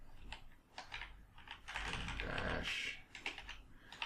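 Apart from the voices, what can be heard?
typing commands on a computer keyboard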